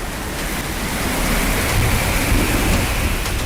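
Thunderstorm with strong wind and heavy rain over Delhi-NCR forms a loud, steady wash of roaring noise with no clear breaks and no voices.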